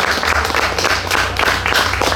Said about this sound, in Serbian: Molim vas, pozdravite velikim aplauzom Slobodana Mikića